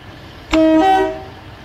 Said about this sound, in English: This train was made by OverheadWires in Blender.